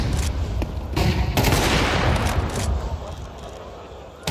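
Rapid bursts of close, loud gunfire in Counter-Strike 2, sprayed in a dense fusillade with cracks stacking over one another, then tapering into a noisy tail.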